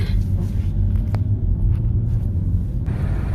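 A 2005 Volvo XC90 with a 2.9-litre turbo engine driving along a city street, heard from inside as a steady low rumble of engine and road noise, loud and continuous, no voices.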